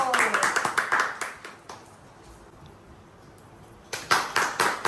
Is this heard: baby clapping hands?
yes